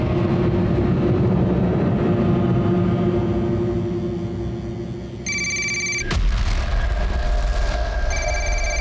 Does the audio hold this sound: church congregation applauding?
no